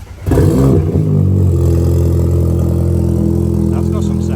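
Porsche Macan with a muffler delete and quad tips starting up, a sharp loud rev that settles into a deep, rumbling steady engine note close by.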